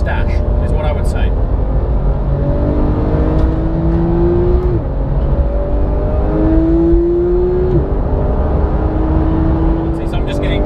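A Porsche 991 GT3 engine pulls hard while driving, rising through the revs in repeated sweeps with gear changes, loud and close inside the car over a steady road roar.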